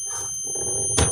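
A faulty Samsung CS21D500HT CRT tube television that will not power on gives off a thin, steady high-pitched squeal, ending in a short sharp click or crackle.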